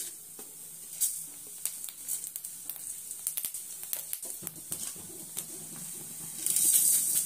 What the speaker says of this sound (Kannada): ಮೆಂತ್ಯ ಒಂದು ಅರ್ಧ ಸ್ಪೂನು, ಜೀರಿಗೆ ಹಾಕ್ತಾ ಇದ್ದೀನಿ